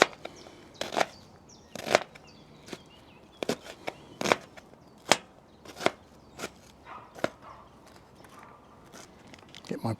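A sharp knife chopping curry ingredients at a compact camp cooking setup, with a dozen or so crisp, irregular cuts against a board at close range and a voice talking faintly in between.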